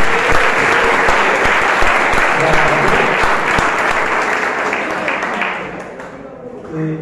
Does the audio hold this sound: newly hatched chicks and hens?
no